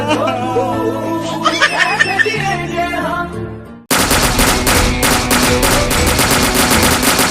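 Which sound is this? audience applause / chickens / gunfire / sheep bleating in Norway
gunfire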